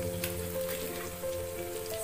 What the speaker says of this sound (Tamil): நம்ம அந்த எண்ணெயிலே போட்டு வதக்கிடலாம்